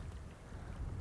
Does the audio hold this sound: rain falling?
yes